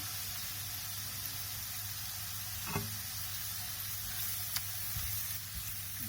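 Ginger garlic paste frying in oil in a pan for fish curry, a steady low sizzle with a faint hum running beneath, broken by a few soft stirring knocks.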